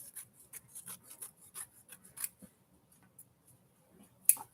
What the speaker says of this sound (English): get a pair of scissors. I'm just going to cut off a little end here